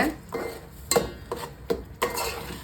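A utensil scrapes and taps against a pan in irregular strokes, with a soft sizzle underneath as a paste is stirred and fried in oil for chicken biryani.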